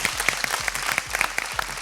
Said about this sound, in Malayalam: മാസ്റ്ററിന് ഒരു വലിയ കൈയടി